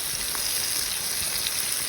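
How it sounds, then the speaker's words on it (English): Constant dense sizzling of beef searing in a hot pot, an even crackling hiss with no pauses and no voices. "It's hard to hear over the sizzling"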